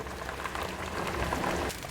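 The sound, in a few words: water coming to a boil in a pot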